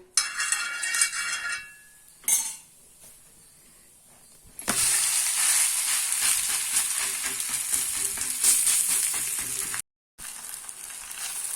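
Drumstick leaf batter frying on a lightly oiled tawa, a broad steady sizzle that rises suddenly after a few quieter clinks and continues loud and close, with a brief dropout near the end.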